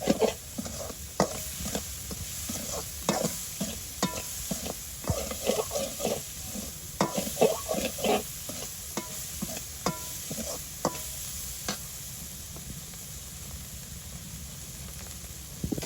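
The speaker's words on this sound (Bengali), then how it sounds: "যেহেতু এগুলো ভাজা করা হবে এই জন্য মরিচ দিব না, এখন হলুদ দিয়েই ভাজা করে নিব।" Small river fish fry in oil with turmeric in a village kitchen. A steady hiss of frying fills the pan, broken by frequent sharp clatters of stirring, and no one speaks.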